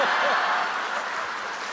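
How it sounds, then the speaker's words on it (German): Studio audience at a German schlager jubilee show gives warm applause welcoming two performers, a dense, steady wash of clapping that fades slightly over its short span. "begrüßen Sie mit einem herzlichen Beifall Andreas Holm und Ingolf Lück"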